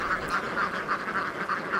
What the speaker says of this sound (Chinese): 偌大的海滩，6000只鸭子呼啸而来